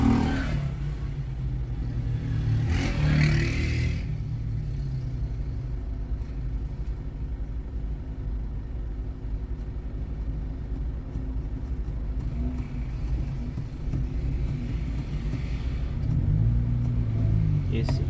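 A Renault Scenic drives on the road ahead, heard from inside a following car as a steady low engine and road rumble, with a brief louder swell early on; people talk in the car over it.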